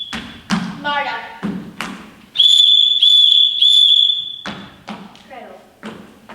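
A whistle is blown in a high school stage production of The Sound of Music to call the children, one long loud steady blast amid stage thumps and footsteps, with voices around it.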